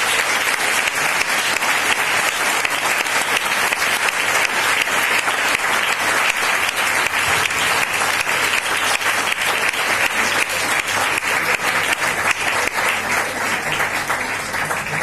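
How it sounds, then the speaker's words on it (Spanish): An audience at a science-skeptics pub talk in Valencia applauds a speaker, dense, loud and steady clapping that carries on unbroken for the full stretch without talk. "Un fuerte aplauso para Rocío Vidal."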